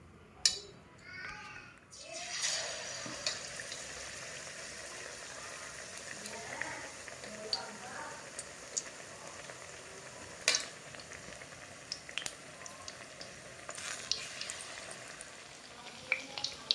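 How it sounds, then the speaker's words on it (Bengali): Chicken pieces frying in hot oil over low heat for chicken satay, a soft steady sizzle with occasional stirring clinks, while someone talks quietly nearby. "এগুলোকে হালকা আঁচে ভেজে নিতে হবে, হালকা আঁচ করে দেব।"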